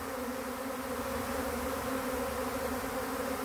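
A swarm of honeybees flying around a hive, a dense continuous buzzing drone heard close up, steady and fairly loud with no voices.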